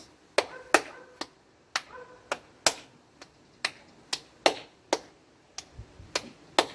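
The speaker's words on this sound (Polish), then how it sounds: "Jak ktoś klaśnie raz, klaszczemy wszyscy raz." Single hand claps passed around a circle in a children's clapping game, sharp separate claps in an uneven sequence, some doubled, with quiet pauses between, close and without talk.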